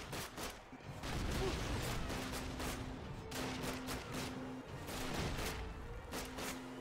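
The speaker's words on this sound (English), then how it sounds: "Who's shooting at us?" Scattered gunfire from a Call of Duty World War II river town battle, rapid bursts and single shots crackling at mid distance over steady battlefield rumble, with a faint tone sounding intermittently.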